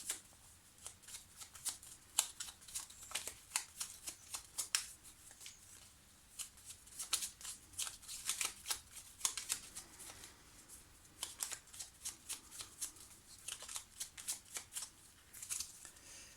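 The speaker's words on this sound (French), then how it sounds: "Taylor35, vous voyez la carte qui se retourne, c'est la carte du cœur" Petit Lenormand cards are shuffled and flipped over during a reading. Crisp papery riffles and snaps come in quick irregular bursts throughout, fairly close and with no talking.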